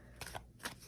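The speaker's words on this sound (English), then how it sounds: "shuffle the deck here" A deck of tarot cards is shuffled by hand in a few quick, close, papery riffles and snaps, brief and soft, with no voices.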